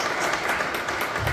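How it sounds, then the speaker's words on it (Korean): Church congregation applauding at a year-end worship service, a steady wash of many hands clapping at moderate distance, even and sustained throughout. "박수로 격려했으면 좋겠습니다."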